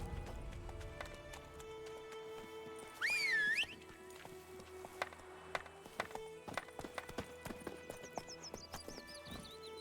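Roach, Geralt's horse in The Witcher 3, gallops with steady clip-clop hoofbeats, a short whinny mid-way, and quiet game ambience around it.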